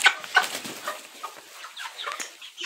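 Chickens cluck and chirp close by in a coop, a busy scatter of short, soft calls with no talking.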